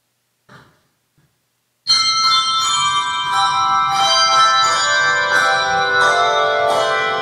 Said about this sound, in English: you just need to hear those silver bells ringing